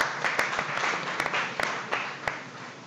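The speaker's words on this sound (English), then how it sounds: "So give a big round of applause to Uriah's Urban Farms." A crowd applauds at a live chef competition event, a continuous wash of clapping with a few sharper nearby claps standing out, steady and fairly loud.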